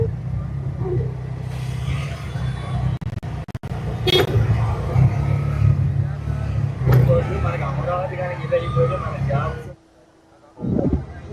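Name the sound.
auto rickshaw engine running while driving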